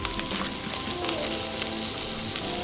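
Butter and sausage sizzle loudly in a pan for Southern sausage gravy, a dense continuous crackle and hiss with scattered pops that runs close and steady throughout.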